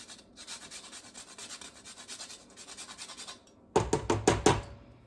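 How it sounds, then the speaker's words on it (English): Nutmeg scraped on a hand grater in a home kitchen while making spinach soup: steady rhythmic rasping strokes, close and fairly quiet, ending in a few louder knocks. "You want to be careful with this grater because you don't want to file your fingernails too."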